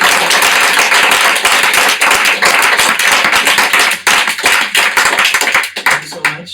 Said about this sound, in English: Let's give a big round of applause to Harinam Ananda.